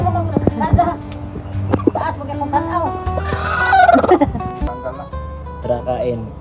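On a fishpond farm, an angry chicken gives agitated, close clucks and squawks in irregular bursts, with a harsher flurry of calls in the middle. A person talks over it throughout.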